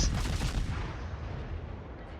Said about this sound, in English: And it's 127mm guns, which just do a lot of damage.